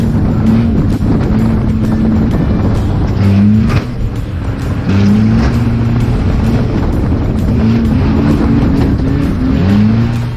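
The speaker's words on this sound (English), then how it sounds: "hitting the throttle and the wheels are just spinning" A race car at Cowdenbeath Racewall on a wet track, with throttle on and wheels spinning: a loud, close engine note that rises and falls repeatedly as revs surge and drop, with no talking.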